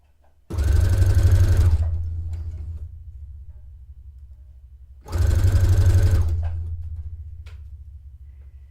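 A sewing machine stitching fabric for a dress, running in two separate bursts of steady rapid whirring, each starting loud and tapering as it slows, close by with quiet pauses between and no talking.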